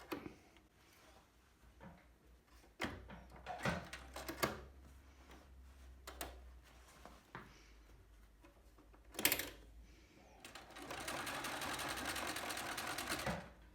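A sewing machine stitches a handle onto a lined bag in short bursts, pausing between runs, then ends in a longer fast whirring run, all close and clear with no talk.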